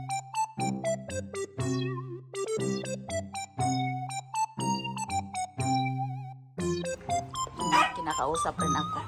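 A pet dog inside a house gives a series of sharp, tonal yips and whining barks in short bursts, some rising and falling in pitch, near and clear with brief pauses between calls.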